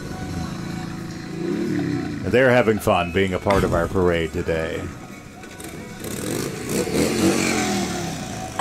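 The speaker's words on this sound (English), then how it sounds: "And you can hear the roar of those motorcycles." Motorcycles rumble and rev past in a Veterans Day parade in Surprise, their engine noise running under a loudspeaker announcer's talk and then swelling more openly near the end.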